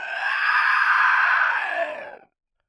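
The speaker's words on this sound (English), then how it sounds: "The beast known as Nomu screeched a horrifying noise" A monster called Nomu lets out a drawn-out, harsh screeching scream, loud and close, holding for about two seconds before cutting off abruptly into silence.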